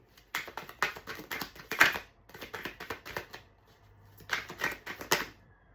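Tarot cards being shuffled by hand in repeated crisp riffling bursts, with short pauses between bursts and a brief gap before a final round; close and moderately quiet with no talking.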